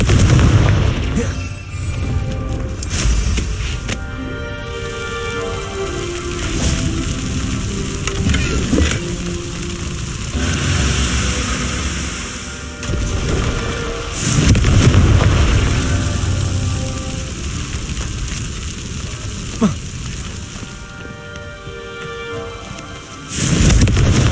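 Repeated blasting spell explosions in Hogwarts Legacy, booming bursts recurring over a dense, loud game soundscape of rumble and clatter, with no clear talk.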